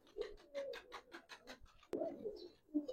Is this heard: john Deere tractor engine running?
no